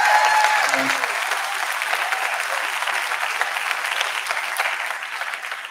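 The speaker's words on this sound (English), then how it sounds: "can you give a big round of applause to these kids for working on this program?" Concert audience applauding young trombone performers at a movie-music program, a steady dense wash of clapping that holds evenly throughout at moderate loudness.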